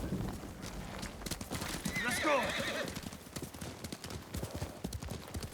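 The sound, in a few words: horses clip-clopping, from video game Ghost of Tsushima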